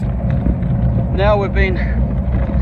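Wind buffets the microphone in steady low rumbling gusts while cycling toward Port Stanley, continuous throughout as a person talks over it.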